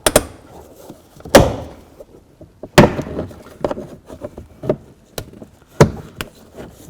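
A plastic trim tool pries the door panel off a 2007-16 GMC Acadia, popping its push-pin clips loose in a series of sharp, close knocks and snaps spaced irregularly, with no talking.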